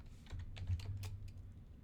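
Fingers tap out a prompt on a computer keyboard, a brief patter of light, uneven key clicks nearby over a faint low hum, with no voices.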